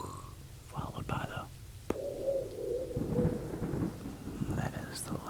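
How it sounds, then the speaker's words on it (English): Thunder rumbles low and steady through a thunderstorm with rain, a deep rolling swell that builds mid-clip while a voice talks softly over it. "that is the lightning, followed by the thunder"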